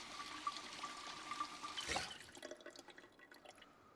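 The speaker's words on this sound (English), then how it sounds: "Sink, fill my water bottle." A sink tap runs in Project Zomboid as a water bottle is filled, giving a steady trickle of water with a brief splashy burst partway through before the flow tails off more quietly.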